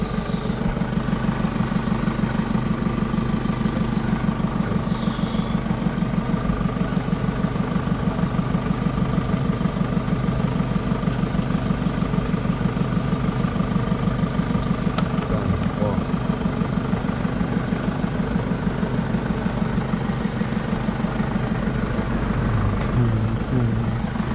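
A work van engine idling after a battery jump start, a steady low hum that holds even for the whole stretch, near and continuous with no revving.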